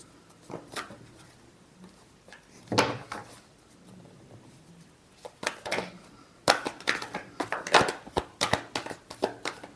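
Tarot cards shuffled by hand in a quiet room, a series of soft papery riffles and taps that grow denser and louder toward the end, with no voice over them.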